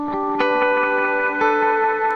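Notes run through a Disaster Transport SR pedal with delay and reverb together, several struck tones ringing into a dense, smeared wash of echoes that sustains steadily throughout.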